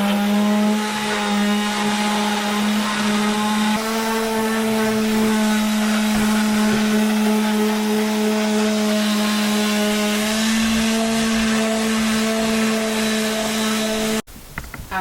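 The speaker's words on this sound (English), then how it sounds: "I'm just finishing up the last bit of sanding on the slide doors here." A steady, loud droning power sander whines continuously for about fourteen seconds on a sailboat's wooden slide doors, with a slight pitch shift midway, then cuts off abruptly.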